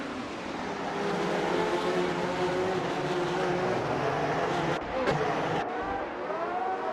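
Classic 1975 Brabham BT44B Formula 1 race cars roar steadily in a racing video game, a loud sustained engine drone with shifting pitch and a brief dip near the end, no voices.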